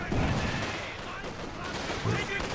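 An artillery barrage in the video game Company of Heroes 2 hitting a Raketen gun: a loud, dense burst of explosive impacts and crackling fire, swelling at the start and again near the end.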